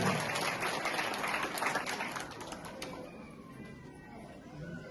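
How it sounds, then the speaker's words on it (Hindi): A crowd applauds at a Bhagwat Katha religious gathering, a moderate wash of clapping that fades out after a few seconds into quieter background sound. "एक बार जोरदार तालियां उनके लिए"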